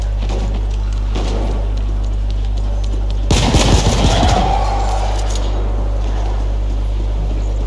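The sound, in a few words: gunfire in the video game The Ascent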